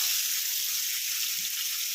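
Food fries in a kadai wok, giving a steady, close, crackling sizzle that stays even throughout.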